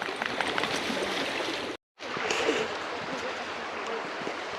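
A creek rushing over rapids makes a steady, loud broadband roar close by, broken by a brief silent gap before the flow resumes.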